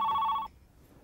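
A telephone rings once indoors, a loud close electronic trill that cuts off abruptly about halfway through, leaving quiet room tone.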